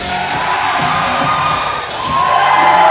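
Crowd at a Limitless Wrestling event in Westbrook roars and cheers steadily, with shrill whoops and whistles on top of a dense, continuous wall of noise.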